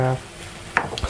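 Quorn spaghetti being stirred in a pan, a short scrape and light clatter of a utensil against the pan with a faint sizzle underneath.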